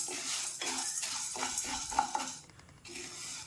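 Toor dal is dry-roasted in a pan without oil, stirred with a spoon that scrapes and clinks against the metal in quiet, irregular strokes.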